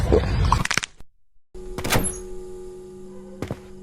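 A door opening in a room, with a couple of thunking knocks and clicks followed by a low steady hum, close and moderately loud.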